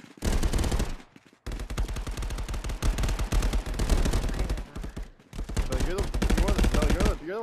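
Rapid automatic gunfire in a VR combat video game on a giant kitchen map, long loud bursts of dense shots broken by short pauses, with some talk mixed in.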